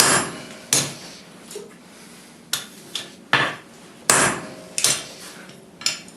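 Hammer blows on hot metal tongs against an anvil, sharp ringing metallic strikes spaced irregularly, single and in pairs, loud and close, each decaying briefly.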